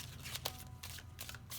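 Tarot cards are being shuffled close by, with a quiet run of crisp papery riffles and soft flicks repeating in short bursts.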